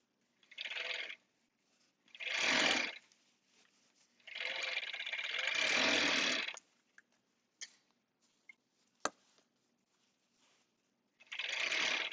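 An industrial sewing machine runs in short, separate bursts of whirring stitching, with quiet pauses and a few light clicks between runs, heard at a low level.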